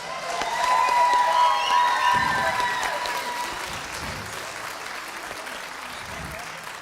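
Applause from a synagogue audience at a Sukkot children's presentation, a steady wash of clapping swelling early then easing, with a sung tone fading out and some talk mixed in.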